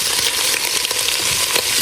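Australian wagyu beef short ribs sizzle and spit in a hot frying pan, a dense continuous crackle with small pops, close and loud.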